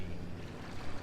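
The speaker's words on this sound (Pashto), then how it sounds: "دغه شور هم تاسې واورئ چې د اوبو شور څومره" Water washes against the Toronto shoreline in a soft, continuous slosh, quiet and close, with no voices.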